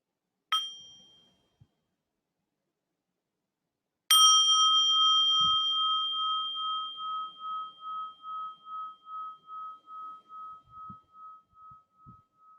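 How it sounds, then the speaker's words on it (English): A mindfulness bell sounds in a quiet meditation setting: a light tap, then a full strike whose clear metallic tone rings out and slowly fades with a gentle pulsing shimmer over several seconds. "The sound of this bell brings me back to my true home."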